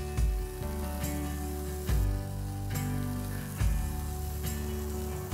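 Cut potatoes placed face down in a hot pan crackle with a soft, steady sizzle, broken by a few sharp knocks as pieces are set down.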